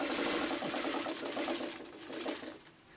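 Sewing machine stitching a fabric purse, a fast even mechanical whir with steady needle rhythm, close and continuous, easing off slightly toward the end.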